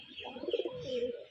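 Pigeons kept in an open space give soft, low cooing calls in a short burst, moderately close, with a few faint chirps mixed in.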